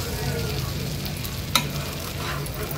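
A cheese bread omelette fries in a pan after being flipped, giving a steady low sizzle throughout with one sharp clack of the spatula midway; no one speaks.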